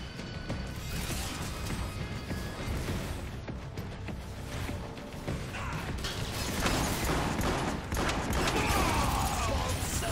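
Scatter Blaster gunfire in the video game Transformers War for Cybertron is a dense, continuous wash of rapid shots and crashes. It stays loud and steady throughout, with game effects layered over it and a voice talking underneath.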